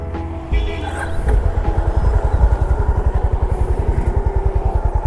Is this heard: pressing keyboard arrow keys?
no